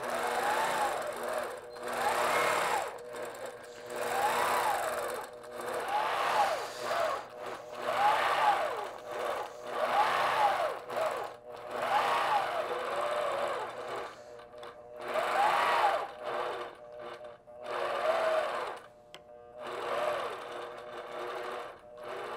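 A longarm quilting machine stitches along a quilting ruler, its rapid mechanical hum running in repeated bursts of a few seconds each with brief pauses between, moderately close and steady.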